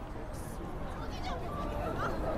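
Crowd chatter on the Shibuya streets in the video game The World Ends With You, a soft, distant murmur of voices with faint passing tones, low and steady in the background.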